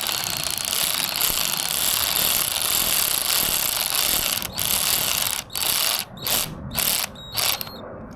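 A ratchet drives bolts home during a manual transmission swap on a Lexus SC400 fitted with a Collins kit, clicking in quick, close, continuous runs that break into short separate bursts near the end.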